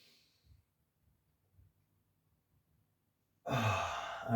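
A person on hands and knees curling the spine during a floor exercise breathes softly for a few seconds, then lets out a sudden loud, close exhale like a heavy sigh.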